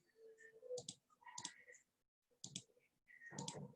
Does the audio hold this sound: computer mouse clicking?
yes